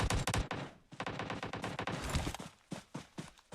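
Rapid bursts of gunfire ring out in a competitive video game scrim, loud and close, with quick repeated shots clustering and pausing in irregular volleys.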